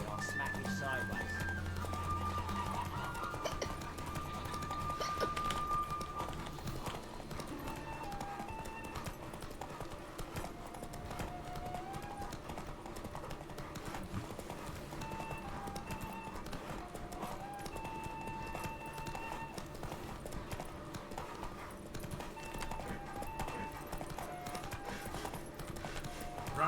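Hooves of a galloping horse in the video game The Witcher 3: Wild Hunt pound in a fast steady rhythm beneath game music and ambient sound.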